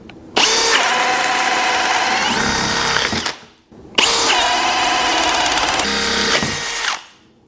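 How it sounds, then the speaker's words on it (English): A cordless drill fitted with a 2 1/8 inch FISCH self-feeding bit bores through 2x6 lumber in two loud, close bursts of about three seconds each, whining and grinding steadily before each winds down. "Even drilling through thicker timber with a cordless drill, these bits will have you covered."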